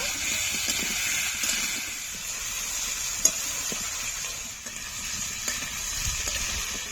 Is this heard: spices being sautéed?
yes